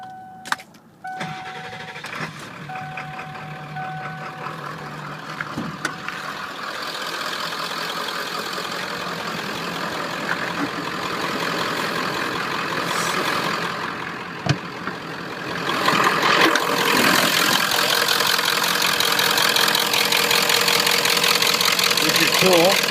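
A car engine cranks and starts, then idles steadily with the hood open, growing louder toward the end, with clicks and a person talking near the start.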